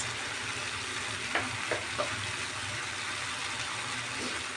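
Tomatoes are mashed and stirred in a frying pan for beef picadillo under a steady, even sizzle, with a few soft taps and scrapes of the utensil against the pan.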